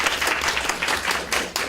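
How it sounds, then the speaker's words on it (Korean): Dense, steady applause from an audience at a lecture on women's politics and gender equality, many hands clapping together at close range with no voices over it. "감사합니다. 박수."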